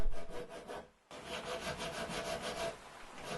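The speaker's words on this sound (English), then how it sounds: "File and dress the material." Rhythmic scraping of a file rubbing back and forth across material while making a compass, steady strokes with a brief pause, close and fairly quiet.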